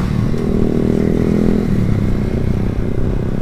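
Yamaha Vision R scooter riding along the road, its engine giving a loud, steady drone with a rough, buzzing edge, close up and uninterrupted, with no talking.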